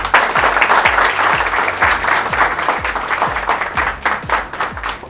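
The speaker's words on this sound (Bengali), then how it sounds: "তো আমার মনে হয় প্রথম একটা ওদের জন্য জোরে হাততালি হওয়া উচিত।" An audience at a celebration for the fifth anniversary of PrepMed, a medical exam prep organisation, breaks into loud, sustained applause, dense overlapping claps filling the room steadily throughout with no speech.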